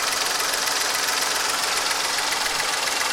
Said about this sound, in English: The noise of this engine is quite different from the one of Lucky You. This one has 60 horsepower.